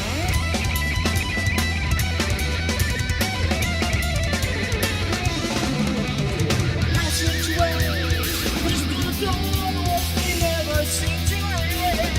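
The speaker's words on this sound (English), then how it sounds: "Listen to those bass drums." Dense heavy metal from a song, with fast, relentless bass drum hits under distorted guitars and vocals, loud and continuous throughout.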